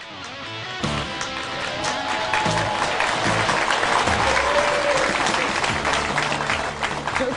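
Dense, sustained clapping fills a studio from about the first second onward, loud and continuous, with faint tonal sounds running underneath.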